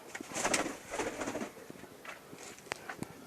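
Soft, repeated pigeon coos rumble nearby, a few low throaty calls followed by quieter clicks and small rustles; nobody talks.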